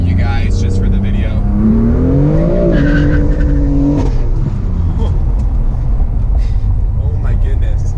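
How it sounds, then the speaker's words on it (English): BMW M4 in its sportiest drive settings pulling hard, a loud engine note rising steadily in pitch through the first few seconds before settling into a sustained roar, with continuous road and engine noise throughout. "I'm gonna put it in its sportiest settings and do a little pull for you guys just for the video."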